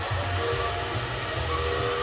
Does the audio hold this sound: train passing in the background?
yes